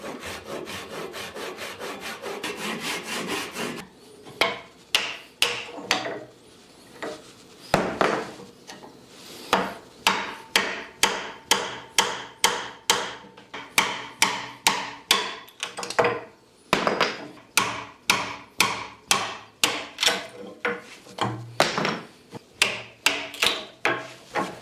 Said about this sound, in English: I'll come back with a chisel and knock the pieces off